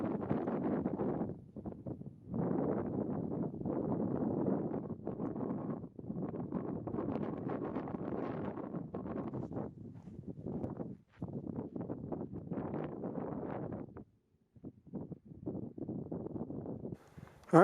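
Strong wind gusts across an exposed mountain ridge on Mt. Silverheels in Colorado, buffeting the microphone in a sustained, loud roar broken by a few brief lulls, with no talking.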